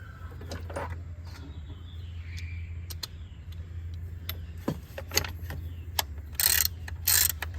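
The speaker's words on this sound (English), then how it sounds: "And then I'm gonna get my ratchet and 10mm." A hand ratchet with a 10mm socket turns a nut in the engine bay of a 2006 Dodge Dakota 4.7L, giving quiet, close clicks of the pawl in short bursts over a low steady hum, ending with a few louder rattling strokes.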